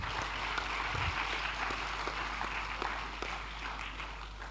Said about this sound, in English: Can we just give Year 11 a round of applause?